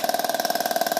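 A self-contained breathing apparatus sounds its low-air alarm, a loud continuous whistling tone that pulses rapidly and evenly throughout.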